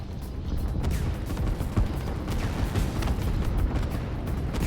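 Artillery and rocket impacts rumble through a Line War battle, a dense, continuous barrage of low booms and crackling blasts at steady loudness, with no talking.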